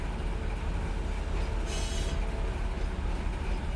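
Train running in the Run 8 Train Simulator game, a steady broad rumble of rolling rail cars with a brief brighter hiss or squeal midway, continuous and fairly loud with no talk.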